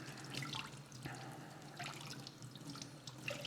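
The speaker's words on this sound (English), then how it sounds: "and fill it with water" Water runs from a tap into a container for soaking sushi rice, a steady splashing stream with light drips, close and fairly quiet.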